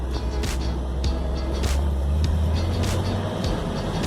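A 1956 Chevy classic car under restoration pulls away in first gear, its steady low engine drone running continuously up close, with brief clunks and rattles from the car rising above it.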